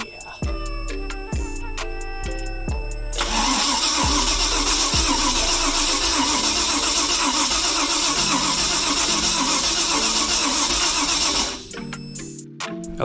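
A 1995 Crownline boat's Mercruiser 5.7 engine cranks in several short, slightly weak bursts, then catches and runs with a loud, steady roar for several seconds before cutting off abruptly.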